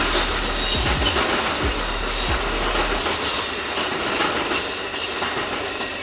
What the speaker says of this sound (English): really hate that train